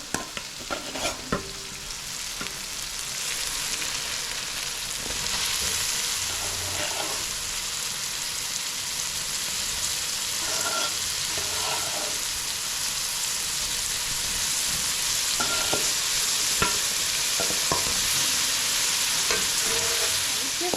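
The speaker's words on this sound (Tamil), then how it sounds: "இப்போ வந்து நம்ம அலசி வச்சிருக்க நத்தையை சேர்த்து அதிலே வதக்கிக்குவோம்" Snails sautéed with onion and tomato in a pan, a continuous close sizzle with intermittent scraping and clinking as the mixture is stirred, no talking.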